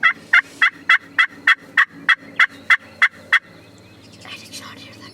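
Young wild turkeys (jakes) gobbling on public land in Tennessee during a spring hunt, about a dozen loud, evenly spaced gobbles in quick succession, then a quieter rustling outdoor background.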